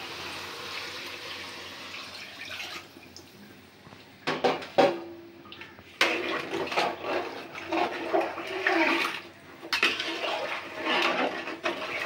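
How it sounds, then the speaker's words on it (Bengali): Water is poured into a pot of sautéed rice and lentils for khichuri, in a short gush and then a longer, uneven splashing pour, close and without talk. "এখন আমি পানিটা দিয়ে দিব।"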